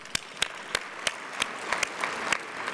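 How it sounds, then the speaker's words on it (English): Scattered, light applause from a small audience at an AERA 2014 awards luncheon: separate sharp claps at an uneven, fairly slow pace, with a low room murmur between them. "I think that is deserving of an applause"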